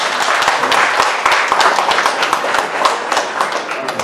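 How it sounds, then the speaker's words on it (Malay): Dense, steady applause of many hands clapping for a teacher at a school reunion in Baling, close and lively with sharp overlapping claps throughout. "Satu tepukan yang gemuruh kepada cikgu kita."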